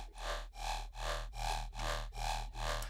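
A distorted sub bass in an FL Studio riddim production pulses in a steady rhythm of about seven gritty, buzzing hits, each with a deep low tone and a harsh midrange edge, loud and alone.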